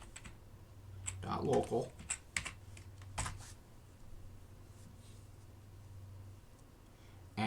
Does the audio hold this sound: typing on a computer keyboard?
yes